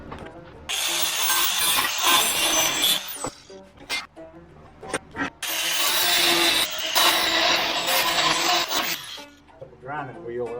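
Angle grinder working on a box trailer door, two long harsh abrasive grinding passes with short breaks and clunks between them, fairly close and loud.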